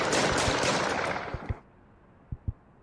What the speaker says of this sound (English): Another shooting?